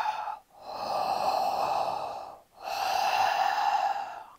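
Ujjayi breathing, a throaty whispered breath like fogging a mirror, heard as two long, steady breaths with a short pause between them, close and fairly soft, with no talking.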